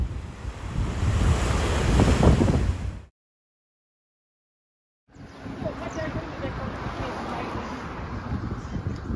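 Ocean waves break on the shore at Willemstad, Curaçao, a loud rushing surf heavily buffeted by wind noise, cut off by a two-second gap of silence before resuming.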